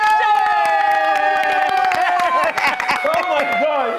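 A crowd at a youth gathering hosted by a governor cheers and shouts as a guest is named, with long sustained yells and whoops over scattered clapping, loud and close, the voices rising and becoming more ragged toward the end.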